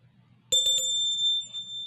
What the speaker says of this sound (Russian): не забываем нажать на колокольчик